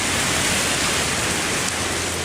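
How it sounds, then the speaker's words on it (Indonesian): Heavy rain pours down in Ilan during a night thunderstorm, a dense, constant hiss with no pauses and no voices. "hujan lebat turun di Ilan semalam suntuk"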